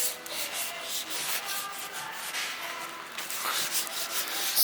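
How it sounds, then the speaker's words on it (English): Brush scrubbing chunks of grease off a Case skid steer, repeated rough bristle strokes in an uneven back-and-forth rhythm, close and moderately loud, with no speech. "Scrubbing it down."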